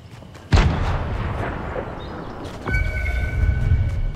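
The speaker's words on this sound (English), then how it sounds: "My grenade." A grenade explodes in Fortnite with a sudden heavy boom that rumbles on, followed a couple of seconds later by a second deep blast with a ringing tail.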